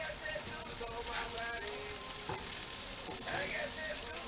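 Mushroom Swiss burgers sizzle and spit on a hot grill as they are flipped, a steady close frying hiss with a couple of brief scraping clatters partway through.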